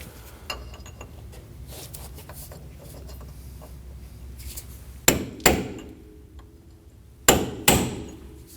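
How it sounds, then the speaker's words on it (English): Hammer peening the notch at the end of a Subaru Baja rear CV axle: light taps at first, then two pairs of sharp, loud metallic strikes ringing close by with no talk. "I'm going to peen that area right there."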